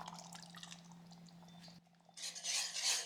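Spoon stirring vanilla and other flavorings into thick Jamaican hominy corn porridge in a pot, a soft wet scraping with faint liquid drips and a steady low hum, growing brighter and busier toward the end.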